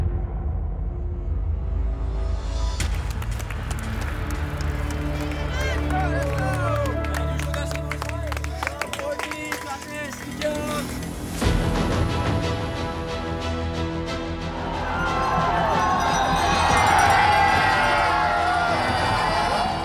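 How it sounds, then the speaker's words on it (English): Large crowd cheering, clapping and whooping for runners arriving in Courmayeur during the UTMB ultramarathon in the Mont-Blanc mountains; a dense, continuous roar with music-like tones mixed in, swelling louder toward the end, with voices in the mix. "I can't believe all of these people are out here cheering."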